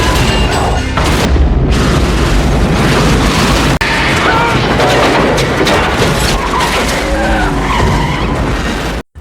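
A thief's car crashes into a truck, setting off a huge explosion inside a road tunnel in a disaster film, loud and continuous: a roaring blast with skidding, crashing debris and rumbling fire throughout, with brief voices partly audible beneath.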